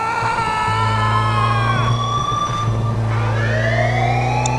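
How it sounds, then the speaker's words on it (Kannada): A loud siren wails close by in Grand Theft Auto, its rising and falling tone sweeping continuously over a steady low vehicle drone. "ಸೈರನ್ ಬೇರೆ ಆಗ್ತಾ ಇದೆ ಫುಲ್ಲು"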